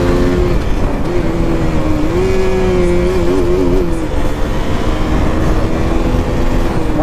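A KTM RC 200 motorcycle on a rough, patched highway with traffic drones steadily as it holds and eases off the throttle, its engine note wavering slightly, loud and continuous with wind noise.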